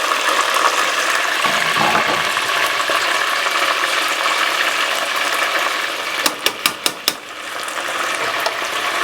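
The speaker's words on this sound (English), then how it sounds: "these are frying up, nice and crispy" Oil bubbles and sizzles steadily as chicken wings deep fry for a second time, with a few sharp clicks or taps near the end; no one speaks.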